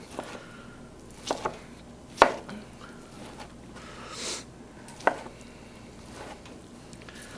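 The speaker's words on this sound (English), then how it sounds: "So we're going to slice this one up" A knife slices through vegetables for a Cajun stir fry, with a few sharp, separate cuts against a board spaced out over a quiet kitchen background.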